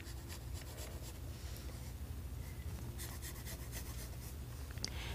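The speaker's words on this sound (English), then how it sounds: "using the side of my pencil, create some areas to show that it's a rock" Soft, steady rasping of a pencil's side shading across paper to draw a large rock, a continuous close scratchy rub with no talk.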